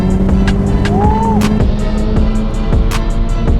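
A Toyota Celica with a 3S-GTE turbo engine races a BMW, its loud engine droning steadily as it accelerates through the gears, with a brief rising whine partway through.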